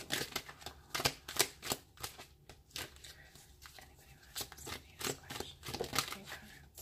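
Tarot cards are shuffled repeatedly in quick, crisp riffling bursts, close and fairly quiet, with brief pauses between them.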